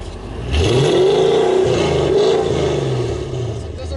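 A car engine revs at a car show, rising in a loud sustained roar that holds near its limit and then drops back, close by, with voices heard faintly.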